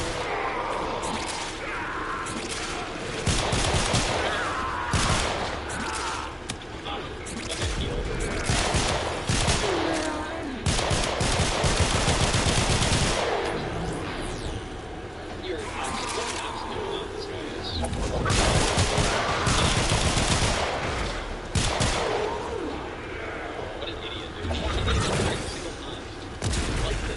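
Gunfire in the Warframe video game, with sustained bursts of rapid shooting at a target alongside crashes and booms, loud and dense throughout. A person talks over it at times.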